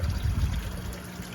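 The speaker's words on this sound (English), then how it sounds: "that water goes through there and down into the bottom of the tank." Filtered water flowing down into the bottom of a tank, a soft trickling, gurgling wash close by, brief and alone.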